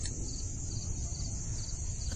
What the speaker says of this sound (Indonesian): suara jangkrik dan binatang malam lainnya terdengar bersahut-sahutan